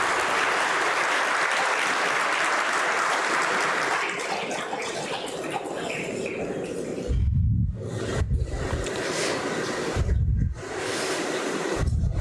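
Audience applause welcoming department heads onto a stage at a university orientation, a broad roar of clapping that fades midway, followed by low thumps and rustles.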